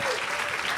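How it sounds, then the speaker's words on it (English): Audience applause at a live show in St. Louis honoring U.S. Figure Skating Winterfest, a brief burst of steady, dense clapping filling the room. "give another round of applause"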